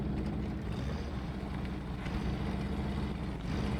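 Jeep Gladiator engine in SnowRunner, Ol Drifters mod, heard from the cab with all-wheel drive and diff lock engaged: a steady, loud, low droning rumble held without a break, no talk.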